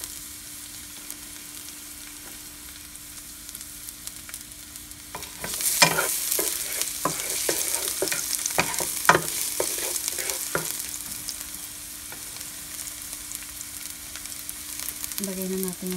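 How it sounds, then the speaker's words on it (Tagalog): Onion and garlic dropped into a hot pan for sautéing ground-meat torta filling: a quiet hum at first, then a sudden burst of sizzling with sharp scraping stirs and clatters from a spatula, close by. "magigisa na tayo ng sibuyas at bawang para sa giniling natin"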